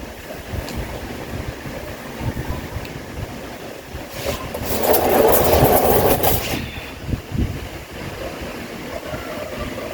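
Constant low rumbling roar of strong typhoon wind buffeting the microphone, swelling into a louder, harsher gust midway before easing back.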